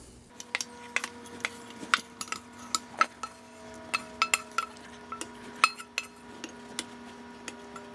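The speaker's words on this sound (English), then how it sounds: "So I'm going to put it right into a bowl." Eggplant and tofu mixture being transferred into a bowl, with a steady run of sharp clinks and taps of a utensil against dishware, close and fairly quiet, with no talking.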